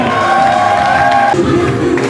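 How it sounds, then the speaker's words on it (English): Wedding guests cheering and applauding, a loud continuous crowd roar of whoops and clapping mixed with music throughout. "Please give me another big round of applause for the mother of the groom, Miss Nancy Preston."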